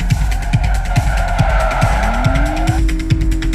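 A car in the Drive Me Broke video game skids under the handbrake, its tires squealing in a long sliding screech over a loud, pulsing engine.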